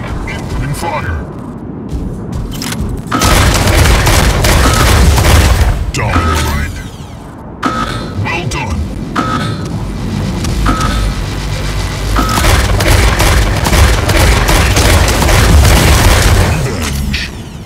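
Mech gunfire in the Mech Arena mobile game, heard as a dense, loud barrage of booming shots and explosions that rolls on almost without pause under a backing soundtrack.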